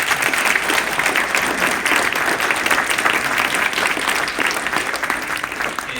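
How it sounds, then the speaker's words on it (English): A graduation audience gives a loud, continuous round of applause for its speakers, dense clapping that stays even throughout without any talk. "Can we have one last round of applause for all my speakers today?"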